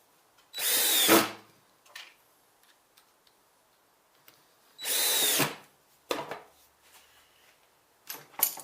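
A power drill drives cabinet screws while a pantry barn door is assembled, giving two loud, steady whirring bursts of about half a second each, several seconds apart, with light taps and handling clatter between them.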